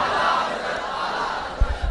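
A large crowd at a religious gathering chants slogans in unison, a dense, loud, sustained roar filling the whole short stretch without pause, with a brief low thump near the end.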